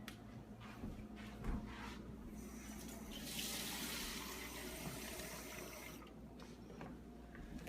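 Water pours from a kitchen tap into a cup, a soft continuous splashing stream that swells in the middle, with faint clatter in the background.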